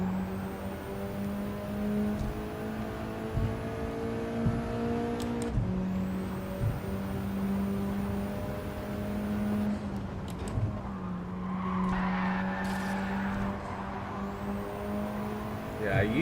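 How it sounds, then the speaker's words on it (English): An old Honda Formula 1 car in Gran Turismo 7, its engine holding a steady high drone with gear changes and revs shifting pitch, heard from the cockpit under occasional talk. "The old Honda F1 car is so cool to drive in VR."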